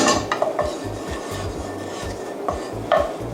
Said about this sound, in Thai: แล้วก็เห็ดของเราก็ใส่ลงไปผัดนะคะ